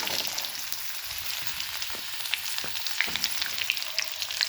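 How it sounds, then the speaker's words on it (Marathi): Garlic fries in hot oil with mustard seeds and cumin, a steady close sizzling hiss dotted with small pops and crackles, no voices. "हे त्याच्यामध्ये लसूण असं आपण टाकून घेणार आहोत हे छान असा लालसर लसूण होऊ द्यायचं आहे"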